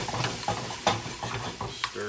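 Butter being stirred into pan-roasted chicken breast, a close soft sizzle with repeated scraping strokes of a utensil against the pan and occasional light metallic clinks.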